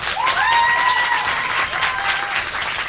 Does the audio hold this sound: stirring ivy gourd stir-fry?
no